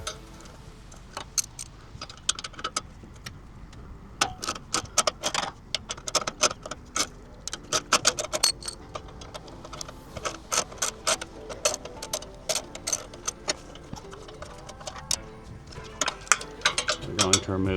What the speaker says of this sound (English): Next, we're going to remove 10mm bolts that hold the lower radiator support to the crash bar.